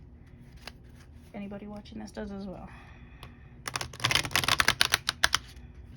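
Oracle cards are shuffled by hand, a dense burst of crisp riffling clicks and flutters rising after a short stretch of talk, fairly close and growing louder toward the end.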